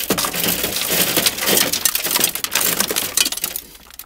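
Shattered glass is broken out of a junkyard car window, a dense, loud run of crunching, crackling fragments and sharp cracks that thins into scattered tinkles toward the end.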